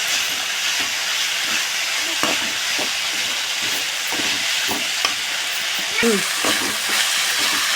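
Cumin, pirandai, garlic and ginger sauté in a pan with a steady frying hiss and occasional stirring scrapes and clicks; no speech.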